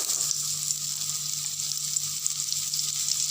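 Cut raw mango pieces frying in hot oil with fenugreek and asafoetida for a sweet mango gravy, a steady dense sizzle close by, continuous and even throughout with no talking.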